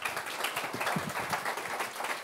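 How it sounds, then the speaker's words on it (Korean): An audience at a corporate job-talk event claps briefly, a dense patter of many hands lasting a couple of seconds at moderate level. "박수 부탁드립니다."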